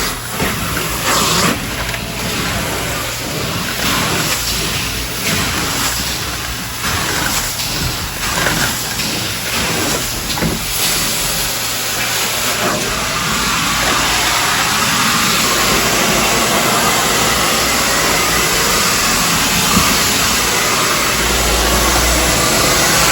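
A carpet cleaning extractor machine sucking solution back out of a carpet, a loud, steady motor whine and rushing airflow that runs close and continuous throughout, with no talking.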